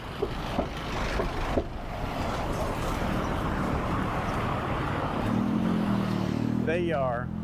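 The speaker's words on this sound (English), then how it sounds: "The tanker trucks are here pulling." Heavy road traffic with tanker trucks pulling water from a city moat in Chiang Mai, Thailand: a continuous close engine and tyre roar with a deeper truck engine swelling near the end, plus a brief voice-like tone.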